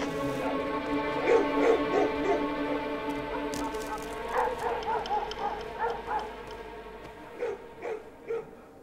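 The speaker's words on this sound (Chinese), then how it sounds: "没日没夜的狗叫" Dogs barking and yipping in a palace courtyard in a Chinese historical drama, short repeated yelps and whimpers in bursts, moderately loud over a steady background hum.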